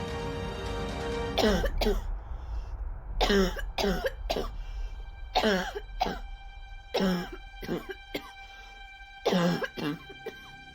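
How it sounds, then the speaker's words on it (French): A woman's fit of harsh coughing comes in repeated bursts, with short pauses and throat clearing between them, close and fairly loud. "elle referma la porte et tomba à genoux, étranglée par une quinte de toux"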